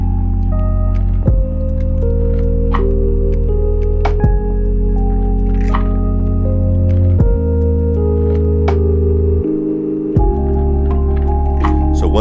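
A lofi track with filtered key clicks and a foley shake plays as sustained mellow chords with soft ticking percussion. It is loud and steady, and no one talks over it.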